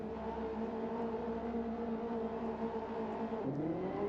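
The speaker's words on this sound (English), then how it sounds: "I hear these guys revving their engines and getting ready to destroy the top." Several BMW JCW Mini race cars idle and rev together on the grid before a Class A race start, a steady layered engine drone with a pitch dip and rise near the end, no talking.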